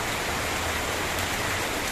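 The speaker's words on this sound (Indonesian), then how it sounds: "Ini lagi hujan ya." Rain falls outdoors beside village houses, a steady dense hiss of drops on the ground that stays even and close throughout, with no voices.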